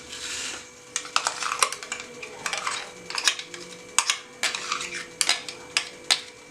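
Ground shallot paste is strained for onion juice, heard as irregular clinks and scrapes of a metal spoon against a strainer and bowl, close and fairly sharp, with no talking.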